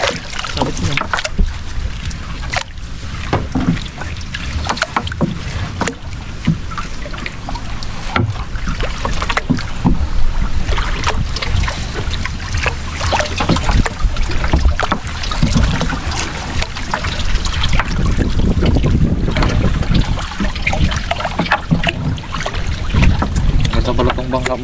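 A small wooden fishing boat (bangka) on open water, with a steady engine rumble and wind buffeting, water sloshing against the hull, and people talking intermittently over the noise throughout.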